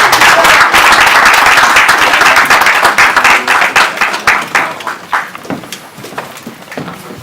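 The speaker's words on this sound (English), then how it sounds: "Big round of applause for our panel." Applause for a panel at the Australia India Business Summit 2022 in Melbourne: a loud, dense round of clapping that thins into scattered individual claps and fades out.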